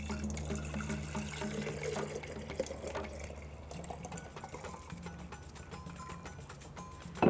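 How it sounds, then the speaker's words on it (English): Homemade nut milk pours steadily into a mason jar, a continuous close liquid stream with gentle trickling and splashing throughout. "then we will pour our 4 cups back into our mason jar."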